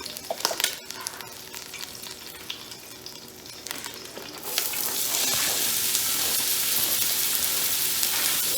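Chopped onions drop into hot grease in a skillet, shifting from light clatter and handling noise into a loud, steady, close sizzle that continues without talk.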